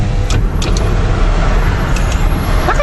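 Road traffic of cars and buses creeping slowly along a congested street, a steady broadband engine rumble with occasional brief brake hiss, continuous and fairly close.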